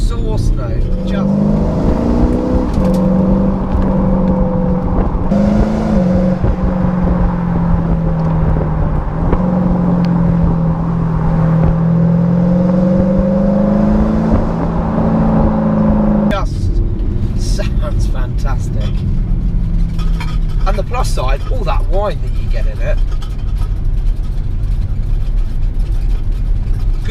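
An Audi SQ5 in dynamic mode accelerates hard, its exhaust a loud, continuous droning roar that climbs steadily in pitch, then breaks with a gear change and carries on rough and rumbling.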